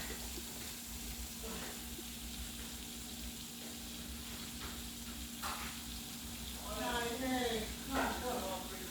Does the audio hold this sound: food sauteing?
yes